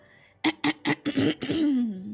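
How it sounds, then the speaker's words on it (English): A person clears their throat in a rapid series of about five rough, hacking bursts that run together into a final drawn-out rasp, close to the microphone and alone. "I need to clear my throat."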